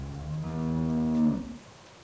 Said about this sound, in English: How's the cow?